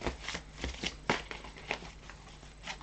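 Tarot cards being shuffled by hand in a short, close burst of soft riffling and flapping strokes, with no talking.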